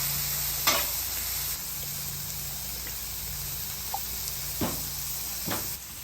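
Fajita vegetables sizzle on a Traeger flat top griddle in a steady, loud hiss that fills the clip, broken by a few brief scrapes and clicks.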